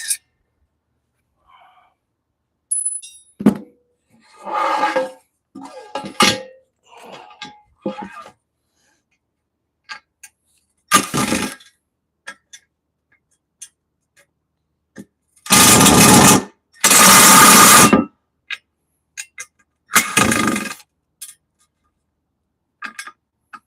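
A power tool used to take apart a metal assembly runs in several short loud bursts, the longest two lasting about a second each, separated by quiet gaps and scattered handling clatter.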